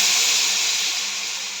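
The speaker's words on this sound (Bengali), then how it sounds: "এবার আমি একটুখানি জল দিয়ে দেবো" Water hits lightly fried potatoes in a hot pan, giving a loud, close sizzling hiss of steam that holds steady and slowly fades.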